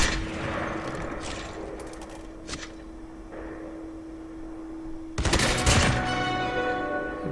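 Mythic Rytec rifle firing in a video game, a few bursts of gunfire over a steady game tone, with a louder burst of shots near the end.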